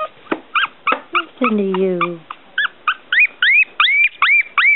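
One-week-old Smooth Coat Collie, Coon Hound and Pomeranian mix puppies whimper and yip in a steady run of short, high, rising cries, close by, with a person speaking softly among them.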